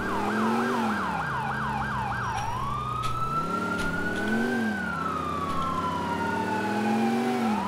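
Police car siren in the video game GTA IV, first a rapid yelping wail, then a slow rising and falling wail, loud and continuous over engine hum, with a second siren sweeping in the background.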